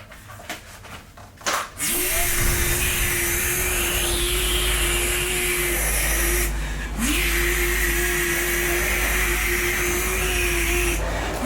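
A Snapper vacuum cleaner with a faulty drive belt roars loudly and steadily, cutting out briefly midway before starting up again, with a high whine over its deep motor drone.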